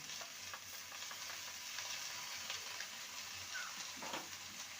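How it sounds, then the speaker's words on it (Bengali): Mustard, poppy seed and coconut paste with green chilli being sautéed in a pan, a steady soft sizzle with scattered stirring scrapes throughout. "ভালো করে কষিয়ে নেব"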